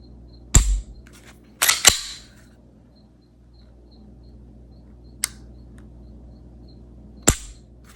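A Springfield Echelon pistol's trigger is pulled and reset, giving sharp, isolated clicks: one near the start, a quick pair a second later, then two more spaced apart in quiet surroundings.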